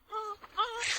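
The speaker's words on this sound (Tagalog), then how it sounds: "Wala naman akong naririnig na ibang tao kundi puro iyak ng sanggol." A newborn baby boy left at a house's front door cries in a short, thin wail with a rising moaning pitch, heard alone and fairly close.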